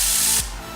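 A short, forceful hiss of compressed air blowing dirt out of a motorbike chain for under half a second, then cutting off to a quieter mechanical hum.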